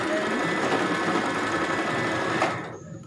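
Sewing machine stitching fabric to attach a gown panel, a steady fast mechanical whir running close and continuous, then easing off near the end.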